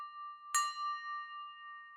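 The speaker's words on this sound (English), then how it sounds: "I put a little chime that sounds a little bit like this." A yoga practice chime rings once, a clear bright metallic tone that sustains and slowly fades, alone in silence.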